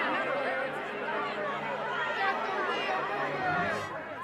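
Restless crowd chattering at a fair with a Ferris wheel, a dense steady babble of many voices with bits of laughter, loud and continuous throughout.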